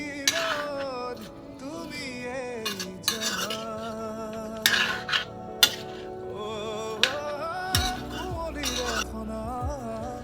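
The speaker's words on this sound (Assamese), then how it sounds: "ভাজি থাকিব লাগিব যেতিয়ালৈকে কৰ্দৈখিনি পমি নাযায়" Chopped roselle leaves stirred and fried in a pan for a sweet-spicy pickle, with a metal spoon scraping and clanking against the pan in irregular strokes, close, under a faint sizzle.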